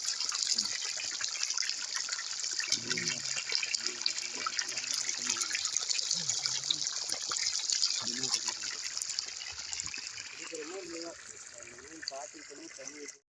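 Water gushes from the pipe of a newly installed borewell pump in Namakkal district, Tamil Nadu. A steady, loud rush of flowing water runs throughout, and faint voices can be heard underneath it.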